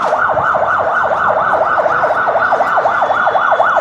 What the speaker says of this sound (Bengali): এমার্জেন্সি কিছু অ্যাম্বুলেন্স এদেরকে চলার অনুমতি দিয়েছে।